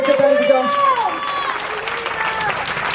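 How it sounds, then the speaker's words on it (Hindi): A church congregation at a fifth anniversary celebration claps loudly and steadily throughout, a dense wash of applause with a voice ringing out over it near the start. "जोर से ताली बजाओ अपने लिए भी और परमेश्वर के लिए भी"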